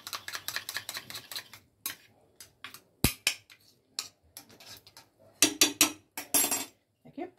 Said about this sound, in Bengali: এবারে এই দই আর বেসনটাকে খুব ভালো করে ফেটিয়ে নেব।